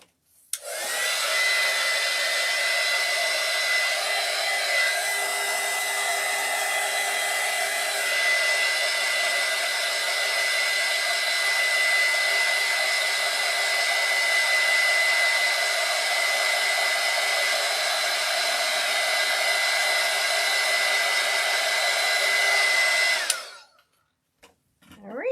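A hair dryer runs steadily on high, drying alcohol ink on ceramic tiles; its loud, even whine and airy roar hold for over twenty seconds with no talk, then cut off abruptly.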